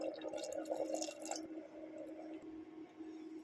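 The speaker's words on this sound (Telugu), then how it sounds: "సో మనం 1/2 గ్లాస్ వరకు వాటర్ పోసుకొని ఇంకా విజిల్ పెట్టుకోవాలి" Water is poured into mutton curry in a pressure cooker, giving a brief wet splash and trickle for about a second before it settles into a faint, quiet hum.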